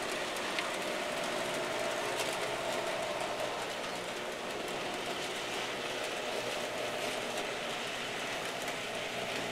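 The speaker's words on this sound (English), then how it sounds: "The hum is not the transformer." A continuous broadband electric whir from an N scale model train engine, steady and fairly close, with a faint rattling texture throughout and no voices.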